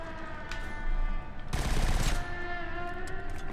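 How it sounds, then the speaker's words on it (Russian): Gunfire in the shooter Killzone Shadow Fall: a short burst of rapid automatic shots rings out loudly for about half a second over a steady game soundscape with low hum. "Как-то странно он стреляет."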